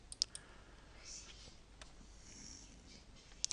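Computer mouse clicks while confirming a file rename prompt on a Windows 7 PC, a few sharp, faint clicks near the start and another pair at the end over quiet room noise.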